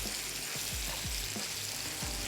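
Cooked rice stirred and tossed in a hot pan for mango fried rice, with a steady close sizzle of frying and a few soft scraping strokes of the spoon.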